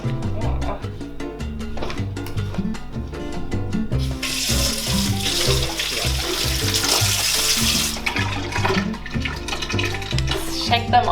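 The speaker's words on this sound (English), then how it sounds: "So, we're going to wash these sweet potatoes." Tap water runs into a kitchen sink while sweet potatoes are washed, with a brief surge of splashing water under a steady background of music.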